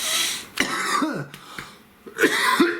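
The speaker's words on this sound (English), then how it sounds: "Second cough in a reading." Two short, sharp coughs a second or so apart, close by, with faint breathy throat sounds between them and no talking.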